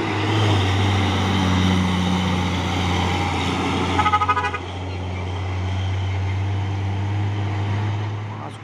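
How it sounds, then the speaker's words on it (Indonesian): A Hino box truck passes close by on a road, a steady loud engine drone with a deep low rumble that swells briefly midway, then eases as it moves on. "Lagi ya truk apa ini, truk Hino Box"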